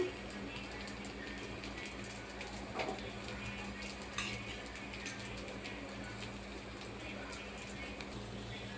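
Aape batter of rice and urad dal frying in a pan with oil added around the sides, a soft steady sizzle with occasional light clinks of a utensil against the pan.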